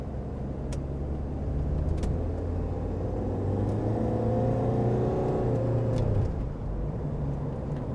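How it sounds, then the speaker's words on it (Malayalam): A Mahindra XUV500 automatic engine accelerating, heard from inside the cabin: a steady low rumble that climbs in pitch as revs rise, then eases back after a smooth gear shift, with faint clicks. "എൻജിൻ കുറച്ച് ഓഡിബിളാണ് വാഹനത്തിനകത്തേക്ക്"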